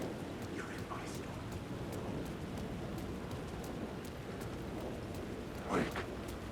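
Steady rain with storm ambience from the video game Alan Wake II, a constant wash of downpour with a faint rumble of thunder swelling near the end and no voices.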